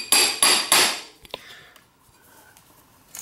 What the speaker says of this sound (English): tap it with a hammer a little bit